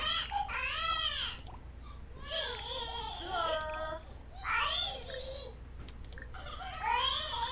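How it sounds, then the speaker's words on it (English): Several Sims 4 children and babies crying and wailing in simulated Sims language, rising and falling in repeated bursts with short gaps between, fairly close and clear over a low steady hum. "there's a lot of crying kids"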